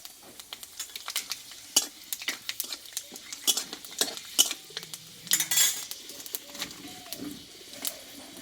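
Bay leaf, dried red chilli, cardamom, cinnamon and cloves frying in oil in a kadai, giving a steady run of sharp crackles and small pops with scraping stirs, close and moderately loud.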